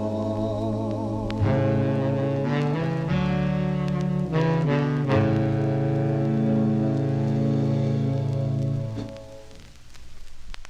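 A 1955 doo-wop vinyl record, "That's All" by the Casanovas, plays with full harmonized vocals over sustained backing tones, loud and steady before fading near the end.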